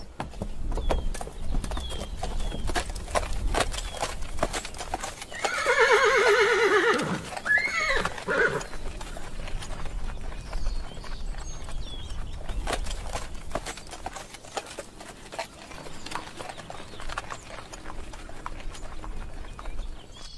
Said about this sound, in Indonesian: Kuda-kuda sedang dipersiapkan di pekarangan.